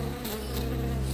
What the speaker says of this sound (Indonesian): ada banyak lebah dan kelelawar di dalamnya